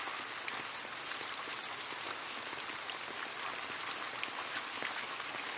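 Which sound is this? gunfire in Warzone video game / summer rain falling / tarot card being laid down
summer rain falling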